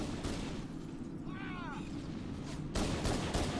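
Gunfire in a Halo multiplayer match comes as a dense, continuous rattle of shots and blasts heard at moderate level, with a brief sweeping electronic effect partway through.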